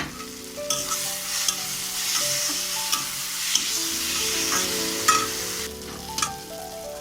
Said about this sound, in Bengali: মশলাগুলো কষিয়ে হয়ে এসছে, আমি ধনে পাতাগুলো দিয়ে দিলাম